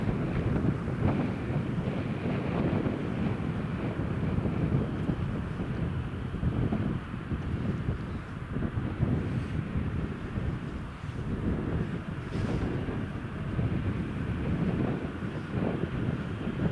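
An aircraft taxiing at Newcastle International Airport, a steady distant engine rumble and whine heard under heavy, gusting wind buffeting on the microphone, continuous and fairly loud.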